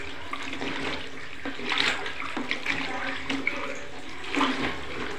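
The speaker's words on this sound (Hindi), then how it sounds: "इसके बाद हम इसको उसी पानी में दोबारा देंगे।" A wedding gown being dunked back into its wash water at home, giving close splashing and sloshing with a few louder surges of water throughout.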